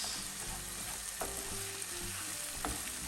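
Egyptian shakshuka sizzles steadily in a frying pan while being stirred, with a constant close hiss broken by a few scraping knocks of the utensil against the pan.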